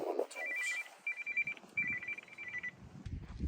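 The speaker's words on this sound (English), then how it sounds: "And a phone call while I'm on" A mobile phone rings with an incoming call during bricklaying work on static homes, its repeated electronic ringtone bursts sitting clearly over faint site background noise, with brief knocks at the end.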